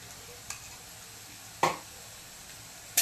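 Onion and garlic paste with asafoetida sizzles softly in a pan while being stirred, a faint steady frying hiss broken by three sharp scraping clicks of the spoon against the pan.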